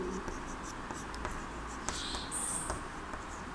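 Chalk or marker scratching out a math definition on a board in a classroom: soft, continuous scratchy strokes with small taps, close and fairly quiet over a steady room hum.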